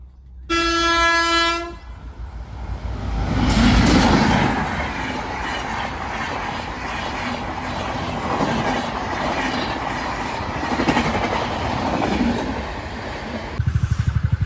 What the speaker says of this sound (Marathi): हांगासर ट्रेन येवपाची आहा दिसता